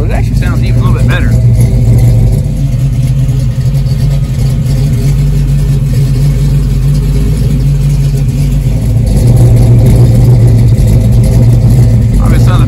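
A Pontiac 455 V8 stroked to 494, heard on its first road run. Its loud, deep rumble runs steadily throughout and swells slightly near the end.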